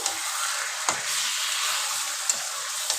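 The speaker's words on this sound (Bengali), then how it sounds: "এবার চিকেনগুলো দিয়ে দিব একে একে।" Chicken pieces fry in spiced masala in a pan for cumin chicken, giving a loud, continuous close sizzle broken by a few soft thumps as the pieces are stirred. No one speaks.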